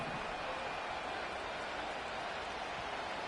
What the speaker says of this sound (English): What about this crowd getting even louder before 3rd and 10?